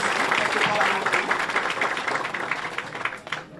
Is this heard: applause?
yes